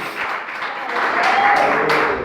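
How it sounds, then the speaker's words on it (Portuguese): A church congregation applauds loudly in praise of Jesus, steady massed clapping that swells slightly over two seconds while a voice carries on over it. "E você aplauda bem forte o Senhor Jesus."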